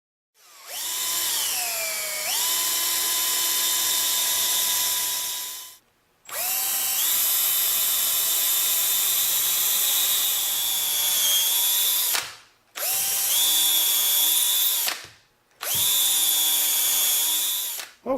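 A power drill bores up from the bottom side of a front wooden trim piece while a motor is fitted to a Country Living grain mill. There are four long bursts with a steady whine, each ramping up and easing off, separated by short pauses.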